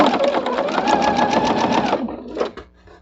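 A sewing machine stitches a quilt block seam in a steady, rapid run for about two seconds, then stops, followed by a few brief clicks and handling sounds.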